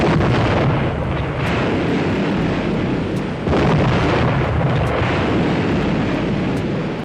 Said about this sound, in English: The explosions that shook the sea.